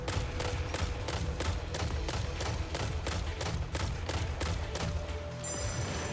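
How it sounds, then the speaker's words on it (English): A solar scout rifle in Destiny fires steady bursts, about a dozen sharp, evenly spaced shots ringing out loud and close over game ambience. "Little triple tap solar scout rifle."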